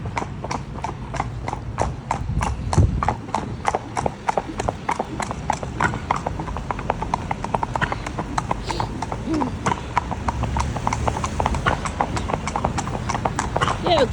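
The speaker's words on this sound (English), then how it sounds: "Trot. Yeah, trot." A horse trots along a main road out hacking, its hooves ringing in a steady, even clip-clop rhythm close by and continuing throughout, with a rider's voice occasionally heard over it.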